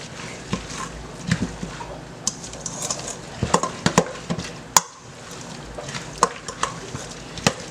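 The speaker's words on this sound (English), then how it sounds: "And mix up, continue mixing." A spoon scrapes and clinks against a bowl while pickled breadfruit is stirred, giving soft wet squelches and irregular sharp taps that come and go close by.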